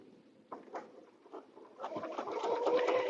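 A sewing machine quilting a butterfly bed runner, its needle running in short bursts that build into a steadier, louder stitching hum toward the end.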